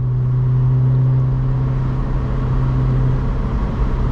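Engine of a supercharged 2006 Honda S2000 AP2 producing about 450 wheel horsepower holds a loud, steady drone with a strong low hum, close and constant throughout.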